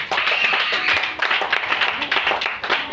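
A church congregation claps and cheers loudly in praise, dense rapid applause mixed with shouting voices throughout.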